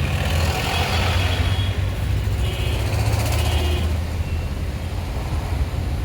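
A manual car pulling away in first gear from a stop, its engine giving a steady, close, continuous rumble as the clutch is released slowly, with road noise alongside.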